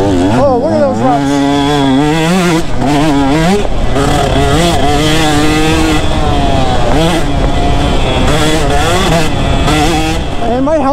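A two-stroke dirt bike engine screams on a rocky track, loud and close, its pitch climbing and dropping through repeated revs and gear changes with brief off-throttle dips.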